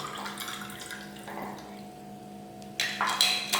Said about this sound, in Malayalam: നമുക്കിനി ഇതിലോട്ട് വെള്ളം ഒഴിക്കാം.